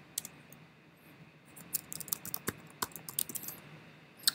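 Computer keyboard typing a terminal install command on an OS X or Linux machine: a quiet burst of irregular key clicks, sparse at first, then quicker and denser toward the end, with no voices.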